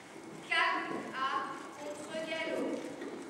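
Horse hooves clip-clop in a steady cantering rhythm during a dressage test, a muffled repeating beat close by under a calm spoken commentary.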